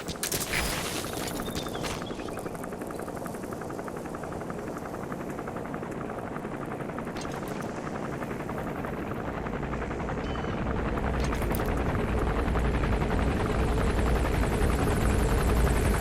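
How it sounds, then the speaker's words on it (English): An enemy gunship helicopter in the video game Metal Gear Solid V gives a steady, loud rotor thrum and engine roar that swells toward the end, with faint mechanical clicks and no talk. "That's an enemy gunship."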